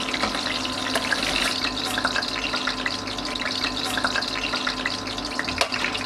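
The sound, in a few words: green chillies frying in a pan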